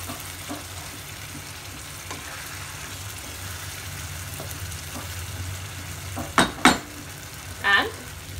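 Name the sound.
stirring prawn curry with ghee in a pan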